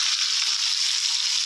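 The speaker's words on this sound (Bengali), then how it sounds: "মাছটা ভাজছে" Pieces of katla fish fry in hot oil in a home kitchen pan, giving off a steady, close, bright sizzle with no talk over it.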